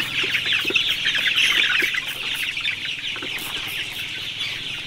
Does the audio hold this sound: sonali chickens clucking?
yes